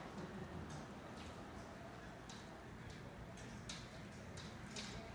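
Heavy summer rain, with hail mentioned, pours down as a steady, dense hiss that never lets up, broken by brief sharper patters and taps.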